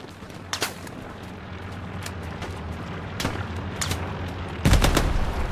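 Scattered distant shots crack over a low battlefield rumble in the World War II shooter Hell Let Loose, then a loud, close explosion bursts near the end and keeps roaring.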